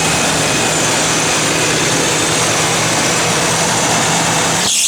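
A 1975 Pontiac Grandville convertible engine idles steadily on a cold start, a loud continuous rumble with a high whine on top, close by and without talk, cutting off sharply at the end.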